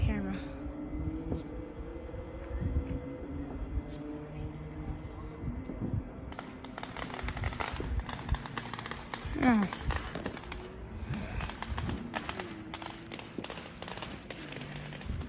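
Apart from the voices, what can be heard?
Fourth of July fireworks exploding in the distance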